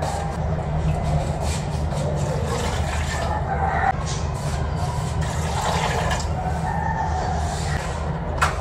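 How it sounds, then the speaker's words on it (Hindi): Water pours into a cooking pot for beef pilao seasoned with coriander, green chili, tomato and onion, a continuous loud rushing splash filling the whole stretch with faint room noise behind. "हम डाल देंगे पानी"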